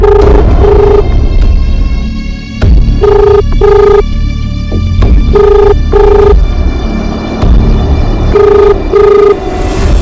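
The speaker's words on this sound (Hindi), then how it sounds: "एक बार मयूर को फोन कीजिए ना।" A telephone rings during a call in a crime drama scene, with short electronic ring tones repeating in pairs and bursts over a loud, rumbling background, several cycles across the span.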